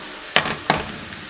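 Garlic stir-frying in a pan for a chicken and tomato dish, a steady close sizzle broken by two sharp scraping stirs of a utensil.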